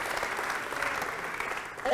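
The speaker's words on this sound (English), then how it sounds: "Round of applause." Steady audience applause at a live-streamed OzGrav science event for National Science Week, sustained for a couple of seconds with faint voices mingling underneath.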